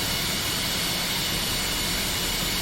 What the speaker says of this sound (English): you'll see the right engine will begin spooling up just a little bit